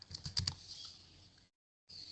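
Typing on a computer keyboard at a Stata command window: a quick burst of light key taps followed by softer clicking, a brief pause, then more faint typing, close and quiet.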